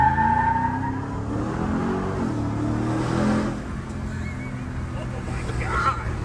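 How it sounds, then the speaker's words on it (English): A truck doing a four-wheel burnout, a steady broad roar of engine and tire noise that holds at one level for about three seconds, then eases slightly and continues with faint shifting tones near the end. "Four-wheel burnout."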